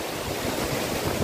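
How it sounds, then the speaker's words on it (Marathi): Water rushing at Vyaghreshwar waterfall in Manche, Devgad, Sindhudurg, a steady dense roar filling the whole short stretch with no let-up, close and loud with no voices. "तर मित्र खूप छान असा आपला हा व्याघ्रेश्वर धबधबा आहे"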